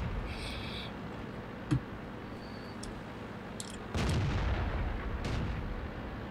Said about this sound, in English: That's not artillery landing around me, is it?